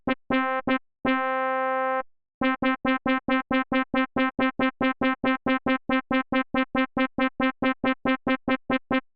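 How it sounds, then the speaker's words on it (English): A synthesized brass patch built from layered oscillators plays a loud, bright line: a few held notes, then a long run of rapid, evenly spaced staccato stabs, alone with no voice. "But in the group, it sounds like this."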